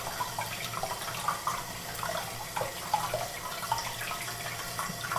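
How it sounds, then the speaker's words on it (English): Tap water running steadily into a sink during soapy washing of gold jewelry chains, a continuous faint splashing stream with small irregular spatters throughout. "let me turn off the water"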